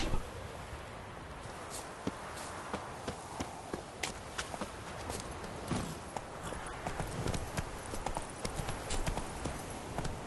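Hooves of Geralt's horse Roach in The Witcher 3 clip-clop steadily in a brisk trot on open ground, moderately close, with faint wind and no talk.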